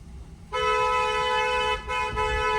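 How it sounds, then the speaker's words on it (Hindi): A long, loud car horn blast sounds close by in a congested lane with cows and a dog ahead, holding steady for about two seconds with a brief dip near the end. "लॉन्ग हॉर्न प्रेस करो ताकि डॉगी हट जाए"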